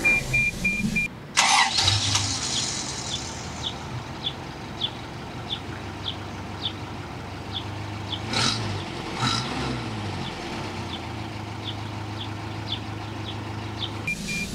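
A 1981 Toyota 4x4 pickup's engine cranks briefly and catches, then settles into a steady, close idle with a low rumble and faint regular ticking, with no talking.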